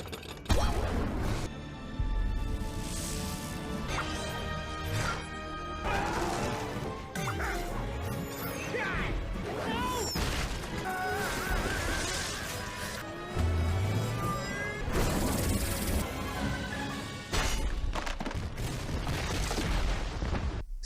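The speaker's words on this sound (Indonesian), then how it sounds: "Melempar balik meriam hingga kapal dan senjata milik Sen hancur lebur" Cannonballs crashing as ships and weapons are destroyed in the animated film Kung Fu Panda 2, a dense run of booms, crashes, whooshes and clattering debris with music underneath, moderately loud and continuous.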